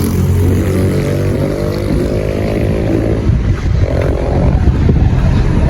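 Motorcycle engine running steadily and close up while riding through Hat Yai streets, a continuous low droning hum with harmonic tones and slight throttle swells, loud and unbroken with no talking.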